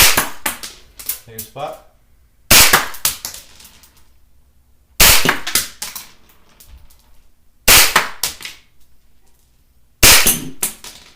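A rifle fires five sharp, loud shots spaced about two and a half seconds apart, each with a short echoing tail, and someone speaks briefly between them.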